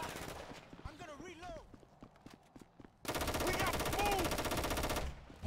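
Loud, rapid automatic gunfire from a GTA 5 shootout bursts in after a voice speaks and keeps going in a dense, unbroken stream for about two seconds.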